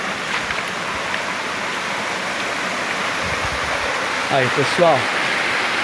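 Steady broadband rush of water at a waterfall during a rappel descent, a constant close wash that fills the clip, with someone speaking briefly over it near the end.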